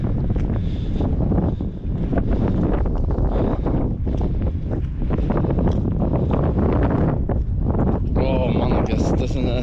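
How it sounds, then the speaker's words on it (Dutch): Biting cold wind blustering across a snowy outdoor spot, loud buffeting gusts battering the microphone, with someone talking throughout. "het is een schralende wind."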